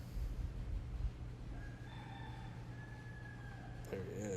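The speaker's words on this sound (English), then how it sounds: "Did you hear that rooster? It's roosters all over the place." A rooster crows outdoors in Hawaii, a faint drawn-out cock-a-doodle-doo at a distance over a steady low background hum, followed by a brief clatter near the end.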